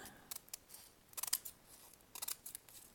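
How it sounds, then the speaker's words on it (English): Scissors snip through material for a large inflatable doughnut: a few short, crisp cuts in uneven clusters, close and fairly quiet, with no talking. "I think what I'm going to do is just hold it and just trim it"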